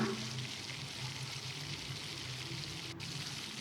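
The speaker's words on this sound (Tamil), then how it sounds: "வெங்காயம் போட்டு நல்லா வதக்கிக்கலாம்" Onions and green chillies sautéing in a pan, a faint, steady sizzle with soft crackle running throughout, no talking.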